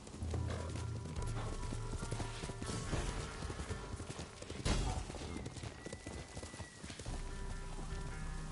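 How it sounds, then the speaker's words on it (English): A horse galloping in Ghost of Tsushima, dense rapid hoofbeats under a full game soundscape, fairly loud and continuous, with little or no talk. "Magical horse came out of the rock."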